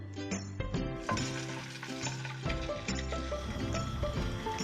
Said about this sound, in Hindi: ऑयल डाल के उसके बाद मैं चिकन डाल रही हूँ